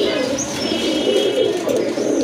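A breeding pair of pigeons coos in soft, throaty, rolling calls, close and continuous over the short stretch.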